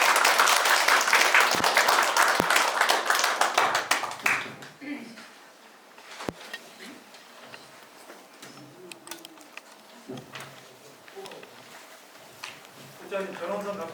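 Audience applause greets a lecturer at a forest landowners' school session, a dense burst of clapping lasting about four seconds, then fading into a quieter room with scattered sounds and brief voices.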